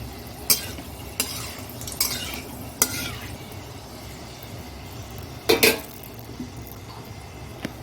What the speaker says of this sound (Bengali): এখানে কড়াই চাপিয়ে দিয়েছি দিয়ে তেলও দিয়ে দিয়েছি আর এই যে একটু শুকনো লঙ্কা দিয়ে দিলাম আর একটু মেথি দিয়ে দিলাম